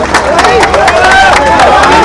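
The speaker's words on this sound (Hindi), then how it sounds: "ये ताली लगाएंगे जरा जोर से।" A crowd at a political workers' convention claps and cheers loudly and close by, with shouts and voices rising over a steady wash of applause.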